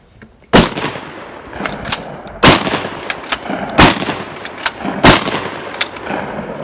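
Panzer M4 semi-automatic shotgun firing steel shot loads outdoors, with five loud, sharp reports spaced about a second or more apart, each blast trailing off in a brief echo.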